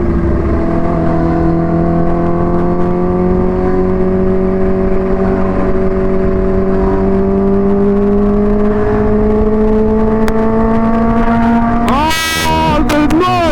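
A supercharged Stage 3 Kawasaki Ninja H2 motorcycle, tuned to about 300 bhp, holds a loud, steady engine note that climbs slowly in pitch throughout, then snaps into a sharp rev burst with popping near the end.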